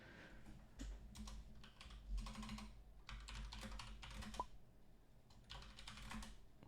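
Typing on a computer keyboard during an online game of Deception, with bursts of quick clicking keystrokes separated by short pauses, close and fairly quiet with no talk.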